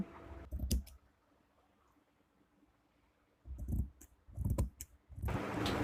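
Scissors cutting blouse fabric in short bursts of snipping and rustling, separated by a quiet pause, close and moderately loud with no speech.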